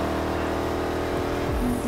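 In Need for Speed Heat, racing cars chase close behind with a steady engine drone, rising into a louder revving surge near the end, with no talk over it.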